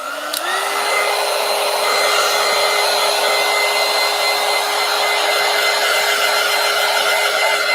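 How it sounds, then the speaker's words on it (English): A heat gun blows a steady, loud, hair-dryer-like roar onto an art piece, switching on at the start with a brief rising whine and then holding constant and close for several seconds, with no talking. "let's go ahead and just hit it with the heat gun"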